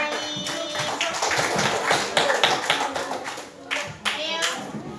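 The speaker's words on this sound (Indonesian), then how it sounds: "silakan kasih aplaus untuk kelompok anak baik" A classroom group of children gets a round of applause: bursts of clapping rise and fall over several seconds while children's voices chatter underneath.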